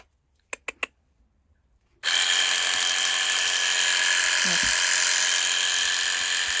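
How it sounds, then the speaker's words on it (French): Several sharp clicks come first, then an electric horse clipper switches on and runs with a loud, steady buzzing whir beside a horse, with a brief low knock partway through. "comment va-t-il réagir au bruit de la tondeuse?"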